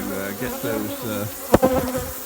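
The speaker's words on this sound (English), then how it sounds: "there's a whole load of bees flying around the camera right now that are ticked off" Agitated honey bees zip past close to the microphone, their buzzing rising and falling in pitch as they circle, with a sharp knock partway through.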